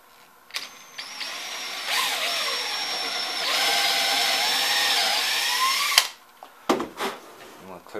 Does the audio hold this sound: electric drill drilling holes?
yes